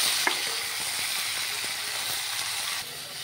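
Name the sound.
vegetables frying in hot oil in a wok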